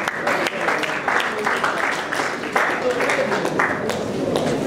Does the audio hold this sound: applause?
yes